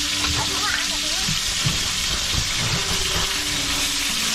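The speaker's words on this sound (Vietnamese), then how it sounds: "Mọi người nghe cái tiếng xèo xèo của cá chiên không?" Fish frying in oil in a small pan, a dense, continuous hiss and crackle of sizzling that holds steady and close throughout, with faint background sounds.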